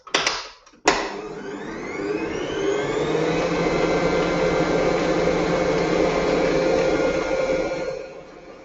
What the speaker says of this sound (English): Finally, I'm going to give it another high-speed beat, and that gets a bit more air into it.